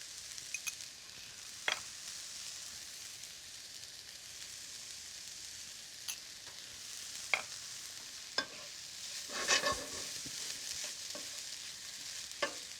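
Garlic and vegetables in a pan for jalapeño popper-stuffed mushrooms sizzle softly and steadily while being stirred, with occasional scrapes and clicks of the utensil against the pan. No one talks.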